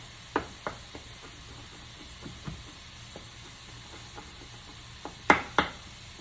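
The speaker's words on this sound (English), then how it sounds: "So I'm just chopping up my meat," Chicken livers and meat are chopped in a sizzling pan for dirty rice, with scattered sharp utensil knocks and scrapes over a soft, steady frying hiss, and two louder clacks near the end.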